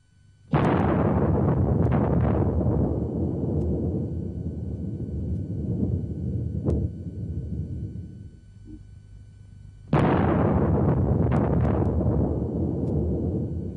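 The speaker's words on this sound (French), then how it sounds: "L'explosion équivaut à plus de 50 millions de tonnes de TNT" The 1961 Soviet air-dropped bomb, the largest ever, detonating as two deep, loud explosion blasts roughly nine seconds apart, each a sudden boom followed by a long rumbling roar that slowly fades.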